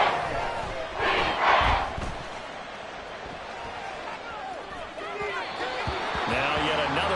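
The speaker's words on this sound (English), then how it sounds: "The Arrowhead crowd in full roar." A stadium crowd roars at Arrowhead in the Madden 24 video game, a broad swelling wash of cheering with thumping bursts, heard under a commentator's voice.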